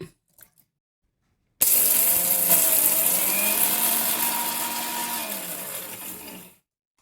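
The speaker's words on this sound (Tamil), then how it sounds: "முதலில் மிக்சியில் மிளகாய் வத்தல், பெருங்காயம், உளுத்தம்பருப்பு போட்டு ஒரு சுற்றி எடுக்கவும்." Kitchen mixer grinder whirring steadily for about five seconds as it grinds dried red chillies, asafoetida and urad dal, loud and close, starting abruptly and winding down at the end, with no talk.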